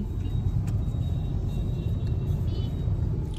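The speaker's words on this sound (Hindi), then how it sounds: "एक गाड़ी आगे जा रही है" A car driving along a road, heard from inside as a steady low engine and tyre rumble that continues without a break, with no talking.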